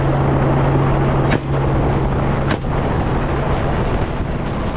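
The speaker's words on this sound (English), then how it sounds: "The helicopter swiftly closes in," A helicopter drones loudly and continuously nearby, its low rotor hum steady with a couple of sharp clicks breaking through.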